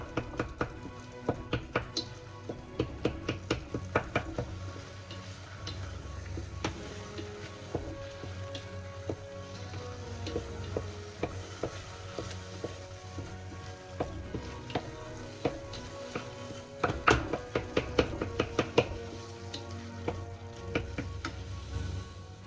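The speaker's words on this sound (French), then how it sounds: "Donc je vais essayer d'écraser comme ça." Boiled plantain is mashed in a pot with water, giving a run of soft repeated taps and squelchy knocks at an uneven pace, quiet and close, with no talk.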